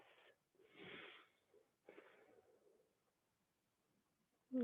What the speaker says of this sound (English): We'll run through a few of those Ujjayi breaths